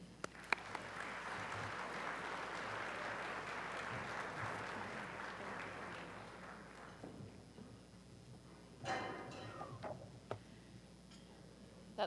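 An audience at a keynote luncheon applauds to welcome the University of Alaska president, a dense burst of clapping that fades out after about seven seconds, followed by scattered knocks and shuffling.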